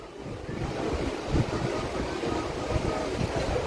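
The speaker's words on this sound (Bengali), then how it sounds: "সন্ধ্যায় আমরা এই মুহূর্তে রয়েছি দীঘার নিউ দীঘা সমুদ্র সৈকতে।" Evening sea waves wash onto New Digha beach in a soft, continuous surf, with wind buffeting the microphone and a low rushing rumble underneath.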